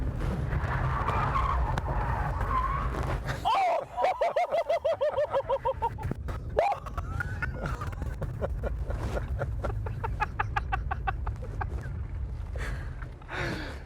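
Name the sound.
car tires skidding during a stunt driving J-turn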